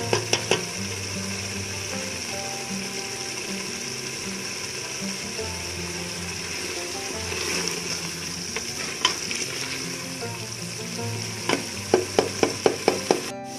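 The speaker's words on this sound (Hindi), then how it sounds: "आपके शलजम चिकन तैयार है, बहुत ही अच्छी तरह भून गया है" Turnip and chicken (shaljam gosht) fry in a pan with a steady sizzle while a spatula stirs and scrapes throughout, ending in a quick run of sharp clinks against the pan, with no talking.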